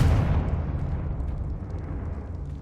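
Confringo fire spell from the video game Hogwarts Legacy bursts into a deep rumbling explosion, loud at the start and slowly decaying into a low roar over a couple of seconds.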